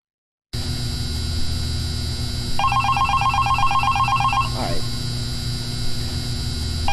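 An old-style phone trills in the Five Nights At Candy's video game, one ring burst of about two seconds over a steady electrical hum and room tone.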